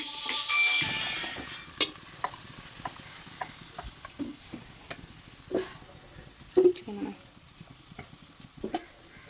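Shallots sautéing in hot oil, a continuous close sizzle broken by repeated spoon stirs and scrapes against the pan, with a few sharper clinks along the way.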